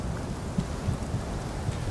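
Steady rain pours throughout in the game Chronos: Before the Ashes, with soft low thunder rumbles rolling under the downpour several times, close and dense, with no voices.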